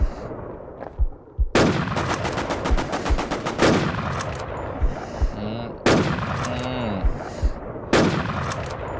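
Repeated bursts of automatic rifle fire hit bots in the zombie survival shooter NewZ. Four loud, rapid strings of shots are separated by short pauses, with scattered single thuds and clanks between them.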